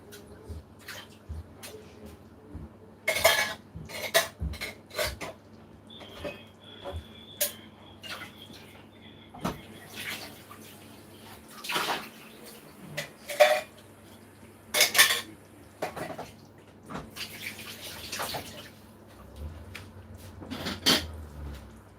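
Pots, dishes and cutlery clatter and clink while being rinsed at the kitchen sink during spinach soup cooking, with scattered sharp knocks and scrapes and running water in between.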